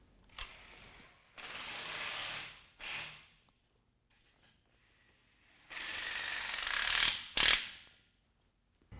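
A hand ratchet tightening bolts during a 5.5-inch suspension lift kit install on a Dodge Ram 2500, heard close up in several bursts of rapid clicking, some long and some short, with quiet pauses between them.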